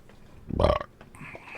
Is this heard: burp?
yes